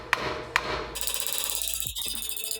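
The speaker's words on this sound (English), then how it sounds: "All we have to do is kind of hammer it in." Two sharp metallic hammer strikes ring out close up while a truck suspension part is driven into place, followed by a rough scraping mechanical rattle, no talking.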